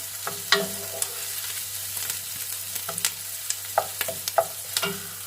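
Garden thyme and bay leaf sauté in a pan with a light crackling sizzle, punctuated by sharp spatula taps and stirring clicks, under a low steady hum.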